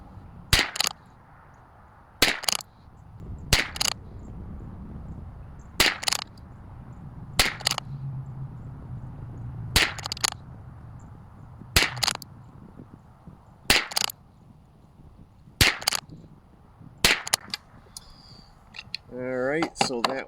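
Bergara BMR-X rifle firing SK semi-auto bench rest ammunition, ten sharp, loud shots spaced about two seconds apart over a quiet background, with a brief rustle at the end.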